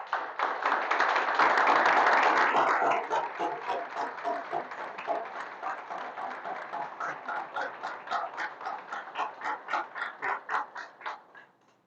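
A church congregation applauds together: a dense burst of clapping at first, settling into a rhythmic, steady group clap that slowly fades out, with no talking over it.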